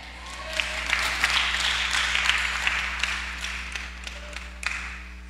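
An audience at a church sermon claps in a sustained burst of applause, dense and fairly close, with individual claps popping out before it thins toward the end.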